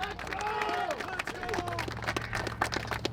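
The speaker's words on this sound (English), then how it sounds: "Give yourselves a round of applause." A crowd at an outdoor anti-vaccine rally claps and cheers in a scattered, moderately distant wave of applause, with voices mixed in.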